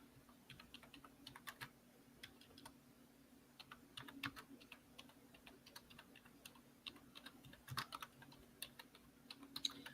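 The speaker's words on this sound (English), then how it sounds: "I'm typing with one hand." Steady, uneven clicking of one-handed typing on a computer keyboard, light taps scattered throughout with a few louder keystrokes, close and fairly quiet over a low background hum, no one speaking.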